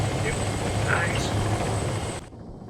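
A helicopter touches down in a combat video game, its rotor and engine roaring loud and steady before cutting off abruptly, with voices talking over it.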